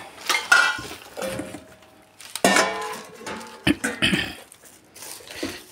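Metal cookware clanks and rattles in several sharp bursts as a wok and utensils are moved about, with a brief throat clear.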